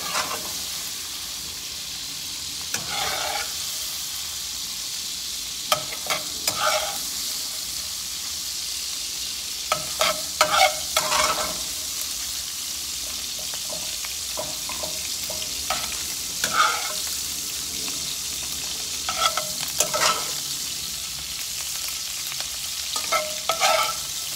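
Sausage fries and browns in a greasy pan, a constant close sizzle broken by bursts of spatula chopping and scraping that come in uneven clusters throughout.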